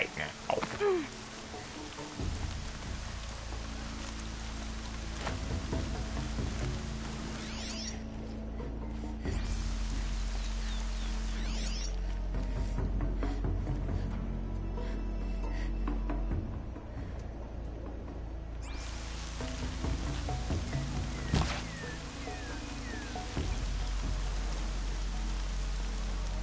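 Rain falls in the video game Horizon Zero Dawn, a steady soft hiss with a low rumble beneath it and occasional faint clicks and mechanical taps.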